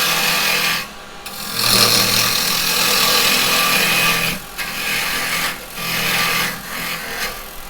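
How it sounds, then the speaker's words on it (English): Gouge cutting a wooden mallet blank spinning on a woodturning lathe, a loud, close, rough scraping hiss in long sustained passes broken by short pauses as the tool lifts off, no talk. "I'm going to take this down a bit"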